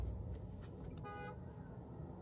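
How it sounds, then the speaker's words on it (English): A brief car horn toot sounds in the middle of steady road traffic noise, close and fairly loud against the continuous rumble of vehicles. "They honking the horn and doing all kind of weird stuff."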